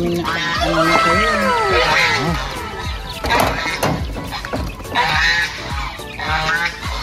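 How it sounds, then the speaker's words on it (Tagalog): Geese honking on a farm, several birds calling in loud overlapping bursts close by, with ducks, turkeys and chickens kept alongside; a person's voice is heard among the calls. "Nandito nga pala yung mga gansa natin,"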